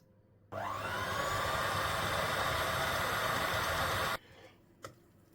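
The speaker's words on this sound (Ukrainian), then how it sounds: "І знову на малі оберти міксер." An electric mixer runs at low speed through kefir cake batter, a steady close whirring drone that starts abruptly, holds for about four seconds and cuts off, followed by a faint click.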